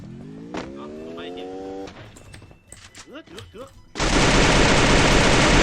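Gunfire from the Free Fire battle game comes in a short burst of shots amid game engine noise, and a loud harsh roar takes over near the end. Voices talk in between.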